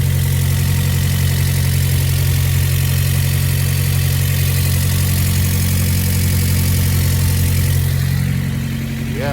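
A 1995 Honda Prelude engine idles after a valve repair, a loud, steady, close-up hum with a constant low throb that runs unbroken throughout.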